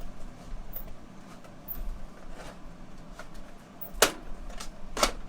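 A die-cutting and embossing machine pressing a small die through a card, heard as quiet mechanical rumbling with two sharp clicks near the end.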